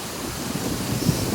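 Strong wind, around 30 knots, blows steadily over open sea off Martinique, with a broad constant roar of gusts and surf wash that swells briefly near the end.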